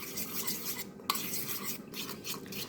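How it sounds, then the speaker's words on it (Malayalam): Milk is stirred into a Kerala-style chicken curry in a pot, giving a soft, continuous scraping and swishing of a spoon with one brief metallic clink, close and fairly quiet. "കുറച്ച് പാൽ ചേർത്തൊന്ന് മിക്സ് ചെയ്തെടുക്കുന്നുണ്ട്"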